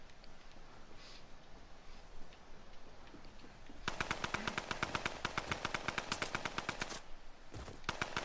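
Rapid automatic gunfire in a Fortnite battle, a long, evenly spaced burst of sharp shots lasting about three seconds, then a brief pause and a shorter burst, set against quieter game ambience.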